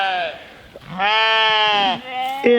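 Sheep on a small farm bleating in a string of loud, wavering calls close by, one long bleat in the middle with shorter ones before and after.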